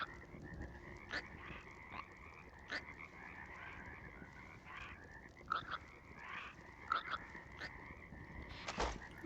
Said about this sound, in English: Yes, all the frogs.